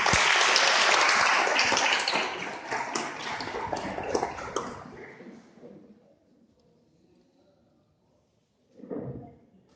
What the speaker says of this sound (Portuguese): Aplauda a Deus pela vida do Neto.